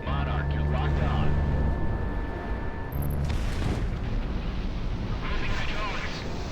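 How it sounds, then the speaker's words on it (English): Missiles exploding in the flight combat video game Project Wingman, with dense booming blasts and rumbling under loud game audio and voice chatter throughout. "I'm trying to dodge these missiles"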